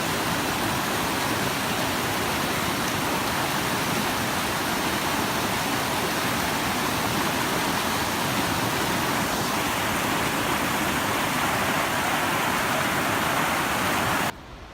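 A freezing snowmelt stream on a Teton backcountry trail rushes in a loud, continuous, broadband roar that holds steady for about fourteen seconds and then cuts off abruptly.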